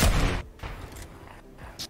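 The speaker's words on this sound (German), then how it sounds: "Die Schüsse kommen einfach später an, als man sie verschießt." Gunfire in the Fortnite video game: a loud burst of shots at the start, followed by a few fainter, spaced thuds and cracks.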